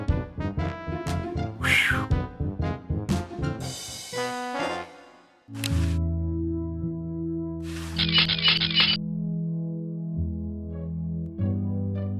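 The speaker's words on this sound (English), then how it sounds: "sounds like the cat's caught a moose up there" In Day of the Tentacle Remastered, a cat yowls loudly over bouncy cartoon game music, its cries rising and falling in several strident bursts while the music carries on with sustained tones.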